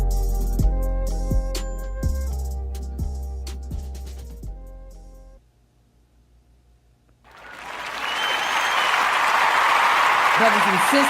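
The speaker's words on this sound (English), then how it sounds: "let's give that round of applause" A music track with heavy beats ends, a short near-silent pause follows, then an audience at a musicians' showcase breaks into broad, sustained applause filling the last few seconds.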